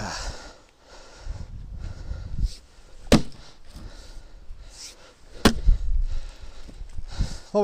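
Splitting white birch firewood by hand outdoors, two sharp loud cracks of an axe or maul striking and splitting wood, separated by a few seconds, with softer shuffling and handling sounds between.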